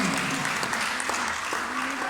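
A church congregation at a Sunday school service claps along in steady, continuous applause, filling the room at even loudness with voices faintly mixed in.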